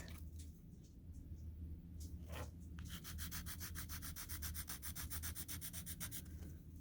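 A hard 2H pencil rasps over textured cold pressed paper, starting with a few scattered strokes and then settling into a fast, steady run of gritty scratching, close and fairly quiet over a low background hum.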